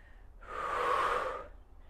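Heavy breath during a power Pilates exercise, a single long, close, airy inhale that swells and fades with no talking.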